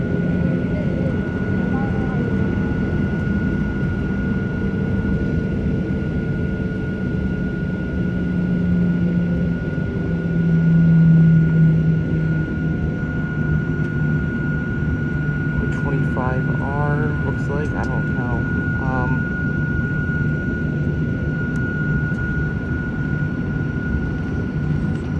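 An American Airlines Boeing 737-823 takes off from Phoenix Sky Harbor, a steady broad jet roar heard from a distance with a faint rising whine, while people talk over it.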